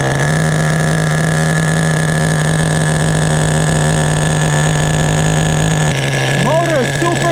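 An HPI Nitro Bullet RC car's G3.0 2.2 HP nitro engine runs at a steady, loud, high-pitched drone throughout, with a brief voice near the end.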